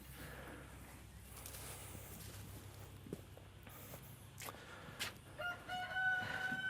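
Chickens in a permaculture vegetable patch cluck faintly, and a rooster crows nearer toward the end, over quiet outdoor ambience.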